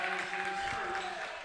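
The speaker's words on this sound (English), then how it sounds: "have the infamous slow clap of, it's about time we got one of those calls" Grayson County basketball crowd in a gym gives a steady, sustained patter of clapping after a foul call, a continuous wash of applause at moderate distance with faint voices mixed in.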